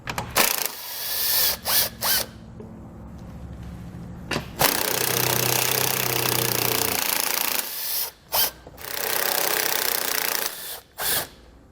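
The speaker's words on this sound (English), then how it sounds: "There are 3 bolts across the front that we're going to need to take off using our 10mm socket." A ratchet with a 10mm socket removing undershield bolts on a 2020 Jeep: bursts of rapid ratcheting clicks alternating with longer stretches of steady mechanical buzzing, close up and fairly loud, with short pauses between bolts.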